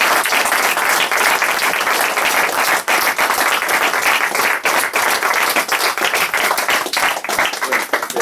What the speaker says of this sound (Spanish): yo os pido un aplauso para Tomás